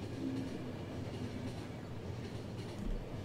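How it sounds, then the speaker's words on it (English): A train rumbles and clatters as it arrives in the video game The Final Station, a continuous low mechanical roll with faint rhythmic wheel clicks and a brief squeal, heard alone at moderate volume. "Damn scheduled train. Where is it?"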